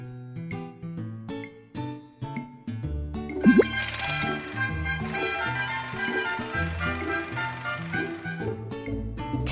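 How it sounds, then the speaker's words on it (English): A cartoon alarm bell rings at a bus garage in a kids' game, a bright bursting jingle of bell tones and chimes over a bouncy melodic backing. "Press the alarm bell at the bus garage."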